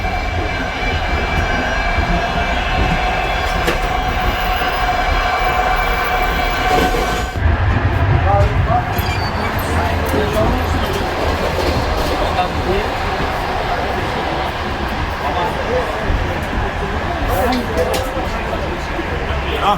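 A moving train in Uzbekistan rumbles steadily with dense, continuous wheel and carriage noise, loud and close, shifting to a rougher clattering texture partway through, with voices talking underneath.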